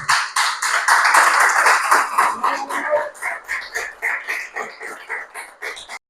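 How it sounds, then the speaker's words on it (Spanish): A church congregation claps in praise during a sermon, a loud run of rhythmic, close hand claps that slows and thins toward the end. "Ahora sí le puedo dar un fuerte aplauso al Señor."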